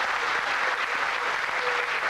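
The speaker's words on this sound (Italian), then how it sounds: "l'applauso lo facciamo tutti insieme alla fine" An audience at a formal gathering with Italian dignitaries applauds, a dense and steady wash of clapping that fills the whole short stretch without a break.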